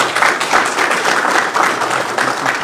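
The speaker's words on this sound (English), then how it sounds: "Give him a round of applause." Audience applause for Commissioner Boyce at a community event in Ohio, a steady dense wash of many hands clapping that holds at an even level for a few seconds.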